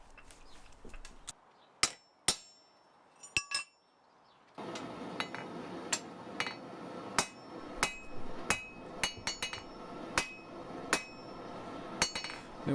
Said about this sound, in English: just deepen it against the corner of the anvil with the hammer